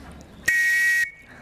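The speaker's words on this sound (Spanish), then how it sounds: "¿Cómo sonaba ese silbato?" A single shrill railway dispatcher's double-tone whistle blast in Navarra, Spain, about half a second long, loud and piercing with two close tones sounding together, then a fading ring.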